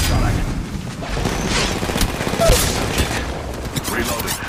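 Dense, rapid gunfire and booming impacts fill a chaotic Apex Legends Mobile firefight, loud and sustained throughout with brief sharper cracks, while game voices sound beneath the shooting.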